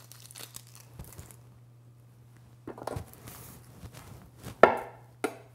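Knife slicing through an onion on a cutting board, a few scattered soft cuts and crisp taps with one sharper chop near the end, close and fairly quiet with a low steady hum behind.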